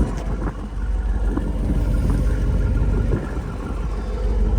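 A 2024 Jeep Wrangler Rubicon 392 V8 runs with a steady, deep rumble under broad wind-like noise, moderately loud and unbroken throughout.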